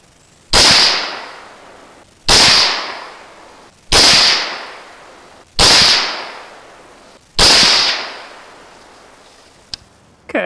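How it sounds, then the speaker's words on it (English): An AR-15 rifle firing cheap ammunition at a 60-yard target: five loud, sharp gunshots spaced evenly about every second and a half, each cracking hard and trailing off in a short echo, with nothing else in between. "take another shot at 60 yards and see what happens there"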